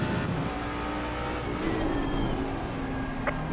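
A race car engine in a racing video game at the Zolder circuit hums in a steady, sustained drone with slight pitch shifts, mixed with faint track noise and no clear talking.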